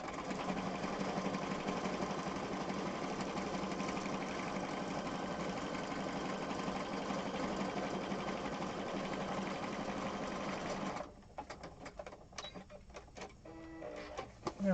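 A sewing machine stitches down the center of a junk journal cover with a fast, steady whirring hum for about eleven seconds, then stops, leaving scattered clicks and handling sounds.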